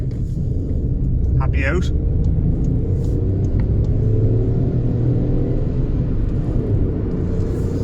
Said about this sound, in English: There's a chap driving by in a Polo.